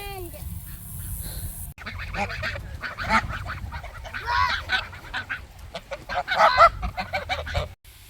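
A flock of ducks on a dry summer homestead honk and quack in close, overlapping bursts that swell and fade, with a few loud goose-like calls standing out and a voice speaking softly at times.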